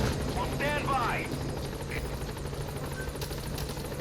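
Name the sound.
support helicopter arriving in Metal Gear Solid V, video game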